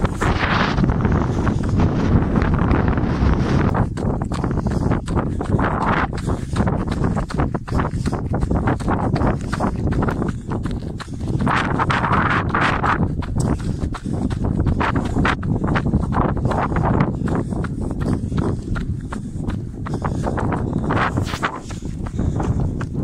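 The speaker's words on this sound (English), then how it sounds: "A little bit windy." Wind at the seaside on a cold day of about 8 degrees, a steady broadband rush buffeting the microphone with gusty surges and rumbling low-end noise, alongside crunching footstep-like sounds throughout.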